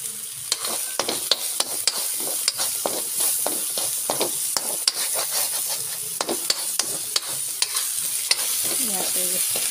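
Ginger and garlic fry in a pan for carrot pickle, a steady close sizzle under frequent sharp scrapes and clinks of a spoon stirring against the metal.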